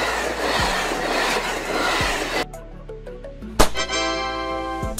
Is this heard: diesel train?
yes